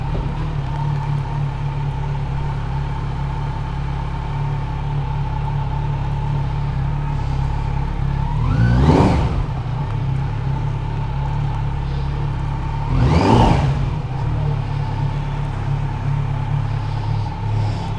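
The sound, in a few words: Kawasaki Z900 motorcycle doing a donut to stop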